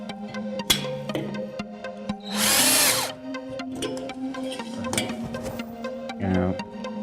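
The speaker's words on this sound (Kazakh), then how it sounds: "Мына шуруповерт, қатыратын шуруповерт," A cordless screwdriver drives screws into wood while a traditional Kazakh shanyrak is being built, giving a few short whirring bursts, one longer loud run mid-way, amid workshop clatter and background hum.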